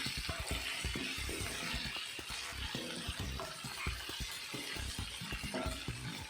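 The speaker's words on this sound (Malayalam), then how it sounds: "ഒരു മീഡിയം ഫ്ലെയിമിൽ ഇങ്ങനെ തുറന്ന് തന്നെ വെച്ചിട്ട് നന്നായിട്ട് വഴറ്റിയെടുക്കുക." Sliced okra fries in an open pan over a medium flame with a dense, continuous crackling sizzle, broken by frequent quick clicks and scrapes as a spatula stirs it up close.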